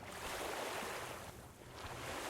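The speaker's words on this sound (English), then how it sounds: "For some reason, that water is just perpetually there." Ambient flowing water in the video game Guild Wars 2, a faint, continuous wash of rushing surf-like noise that dips briefly midway before rising again, with no voices.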